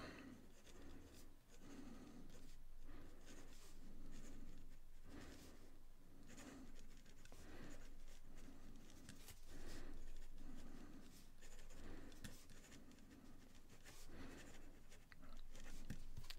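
A Leonardo Momento Zero fountain pen with a steel nib scratches quickly across paper, producing a steady run of soft rubbing and scraping strokes close up, with no voices.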